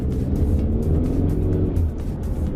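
A Ford Mustang engine drones and pulls steadily under acceleration, with a rising whine and whooshing turbo rush over the low rumble, heard close from inside.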